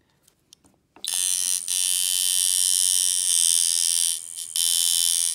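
A Sidewinder V3R tattoo machine starts after a second of near silence and runs as a steady, loud, high-pitched buzz, dipping briefly near the end before resuming.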